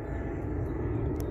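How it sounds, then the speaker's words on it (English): Airplane flying overhead near a lake during carp fishing at Wraysbury: a steady, broad low engine roar, moderately loud and constant throughout with no talk. "Excuse the noise of the plane if you can hear it."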